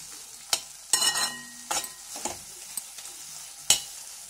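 Chilli garlic prawns cooking in sauce in a pan on low flame, a soft background sizzle punctuated by irregular clanks and scrapes of a stirring spoon, nobody speaking.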